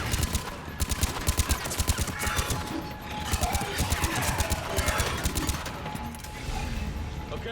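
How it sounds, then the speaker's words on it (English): A sentry gun in Mass Effect 3 fires rapid bursts of automatic shots, loud and close, with brief gaps between volleys amid other game combat noise. "Sentry gun."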